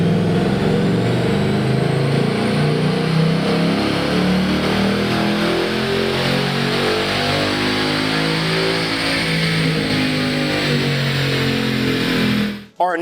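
A 2018 Mustang GT with the 5.0L V8 roars steadily through a dyno pull in 7th gear on 93 octane fuel, its loud engine note climbing smoothly in pitch for about twelve seconds before cutting off abruptly.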